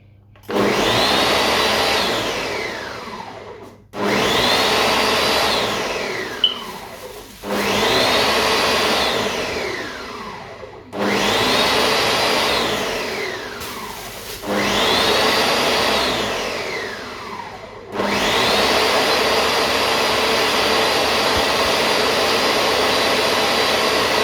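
A kitchen blender grinds ingredients for jollof rice in repeated loud bursts of about four seconds each, the motor whining up and settling into a steady roar before cutting off. The last run continues unbroken.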